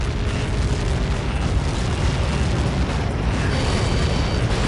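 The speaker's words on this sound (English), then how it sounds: "How many got caught in that explosion?" A massive projectile impact in the combat flight game Ace Combat 7: Skies Unknown produces a sustained, loud, rumbling explosion roar, a dense wash of low booming noise lasting several seconds.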